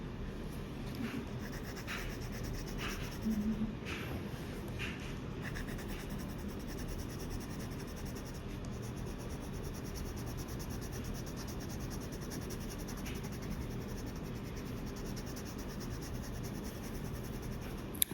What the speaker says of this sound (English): Notice I'm holding the pencils far down the barrel and using the side of the pencil.